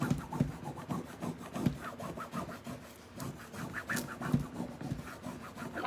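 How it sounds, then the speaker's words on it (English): A transfer design is rubbed onto a book cover, giving a steady rhythmic scraping and rubbing with regular back-and-forth strokes, close up and fairly loud, with no talking. "So, we're rubbing."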